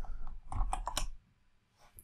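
A few computer keyboard keys pressed together for a Shift, Alt and arrow shortcut, a short close cluster of soft clicks and taps, then quiet.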